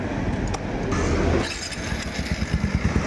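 Motorcycle engine starting on a single click after repair of backfire and overflow problems, a brief starter burst followed by a quiet, even idle close by.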